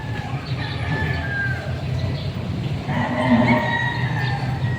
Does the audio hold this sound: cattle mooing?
yes